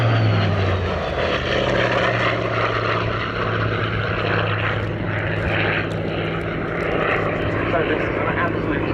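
Hawker Sea Fury piston-engined propeller fighter, civilian owned, flying at the Cosford airshow: a loud, steady, deep engine drone with a low throbbing hum sustained throughout, close and continuous.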